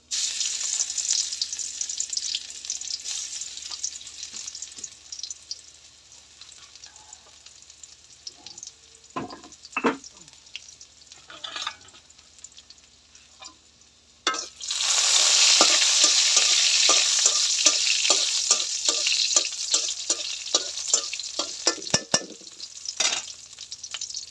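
Garlic fries in hot oil, sizzling steadily while a utensil scrapes and stirs it in clusters of sharp clicks, with a louder burst of sizzle partway through; close and alone, no talking.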